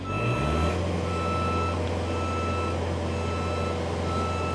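A 2019 JLG 460SJ diesel 4x4 telescopic boom lift sounds a steady repeating warning beep over its droning engine while driving, loud and close throughout.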